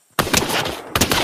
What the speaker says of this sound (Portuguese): Tem tiro lá embaixo, ó.